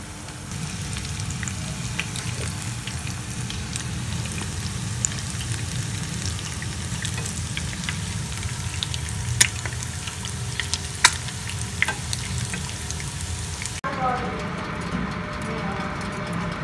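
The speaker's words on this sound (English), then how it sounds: "the oil is hot enough, and just fry the fish on low heat" Fish fries in hot oil over low heat, giving a steady, close crackling sizzle with scattered sharper pops that runs unbroken and without voices.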